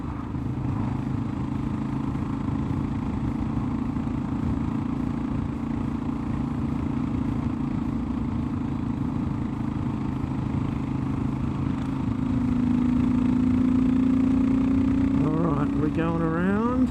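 A Kawasaki KLR 650 single-cylinder motorcycle fitted with a Delkevic header, its engine droning steadily during a slow climb, then rising in pitch as it revs harder near the end, close and continuous.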